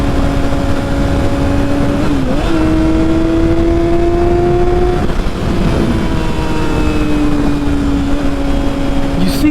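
A gold Yamaha R6 sport motorcycle with a stock ECU pulls away hard, its engine note rising and holding loud and close, then dropping and climbing again.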